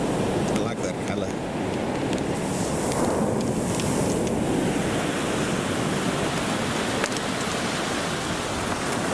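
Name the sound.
ocean waves on the beach at Birdlings Flat, New Zealand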